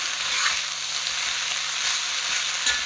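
Kale stir-frying in a wok over high heat, a steady broadband sizzle that holds level throughout with faint stirring scrapes, close and alone without voices.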